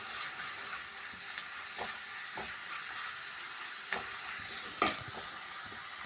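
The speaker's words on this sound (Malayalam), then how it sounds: "ഇഞ്ചി വെളുത്തുള്ളി ചതച്ചത്. നന്നായിട്ട് നമുക്ക് ഫ്രൈ ആക്കണം." Crushed ginger and garlic with green chillies frying in a pan, a steady broad sizzle throughout with occasional soft spatula scrapes and one sharper clink near the end; close and continuous, no voices.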